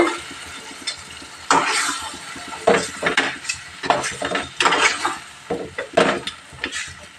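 Mutton curry being mixed in a pot: a series of close, loud scraping and knocking strokes from a spoon against the vessel, coming in irregular bursts with a faint sizzle beneath, and no voices.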